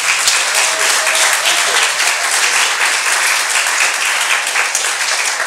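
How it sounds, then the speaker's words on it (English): Audience applause at a live jazz trio concert at an arts center in Sharon, Vermont, dense steady clapping from a crowd filling the whole stretch at close range without letup. "Let's get a round of applause for my guitarist, Alex Salen."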